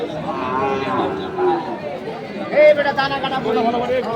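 Crossbred bulls and cattle at the Setabganj livestock haat moo amid dense crowd chatter and shouting traders, the lowing rising briefly over the constant hubbub of the busy market.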